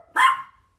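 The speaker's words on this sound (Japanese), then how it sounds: "犬苦手なの？ もっと吠えろ" A dog gives one sharp, fairly close bark that rings briefly before fading into silence.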